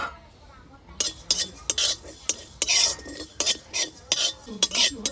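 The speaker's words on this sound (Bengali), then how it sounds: "প্রথমে একটা ভাজা মশলা দরকার, তাই আমি গোটা জিরে একটু শুকনো কড়াতে ভেজে নেব।" Whole cumin seeds dry roasting in a hot wok, with repeated sharp metallic scrapes and clinks of a spatula stirring against the pan in irregular bursts, close and fairly loud.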